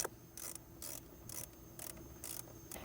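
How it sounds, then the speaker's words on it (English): Repeated ratcheting clicks from a deep 10mm socket on an extension backing out radio bolts in a 2012-2018 Lexus ES dash, coming in short regular bursts about every half second, close and fairly quiet. "I like to use a deep 10mm socket with an extension."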